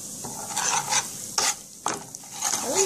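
Curry powder being stirred into hot olive oil in a pot, a steady sizzle broken by several scraping strokes of a utensil against the pot, close and alone.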